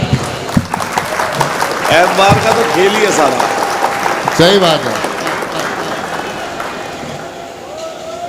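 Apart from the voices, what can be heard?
audience clapping at mushaira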